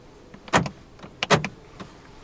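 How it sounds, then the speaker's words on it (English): Two quick mechanical clunks a moment apart from the central locking of a 2015 Kia Picanto 1.0, followed by a fainter click, close by in a quiet car interior. "Central locking."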